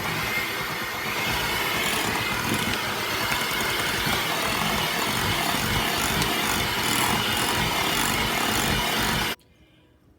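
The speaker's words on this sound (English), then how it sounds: "we're going to cream these two together on medium speed until they're fluffy" An electric hand mixer runs at medium speed, creaming cream cheese and butter together for orange chocolate brownies, a steady loud whirring drone with mottled beater rasp that continues without pause, then cuts out abruptly near the end.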